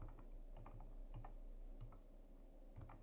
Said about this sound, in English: So we are going to type struct